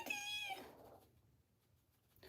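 A cat gives a single clear, fairly close meow with a rising, harmonic tone at the start, then quiet room ambience follows.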